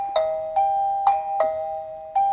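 A wireless chime receiver paired with a Tuya J1 outdoor smart doorbell rings out a bright electronic ding-dong, several clear tones repeating in quick succession, close and loud with no talking.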